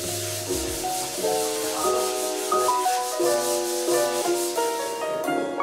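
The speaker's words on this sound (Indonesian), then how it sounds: "sekarang ini tugasnya Kang Koko nih untuk mengamplas ya" Sandpaper is rubbed by hand over a house wall with hairline cracks before painting, making a steady, continuous hiss of scraping strokes under background music.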